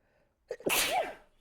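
A single strong, close human sneeze: a short intake followed by a loud explosive burst, heard alone.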